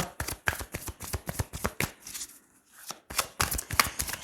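Tarot cards shuffled and laid out, a rapid series of crisp, close flicks and slaps in quick rhythm, pausing briefly midway before resuming.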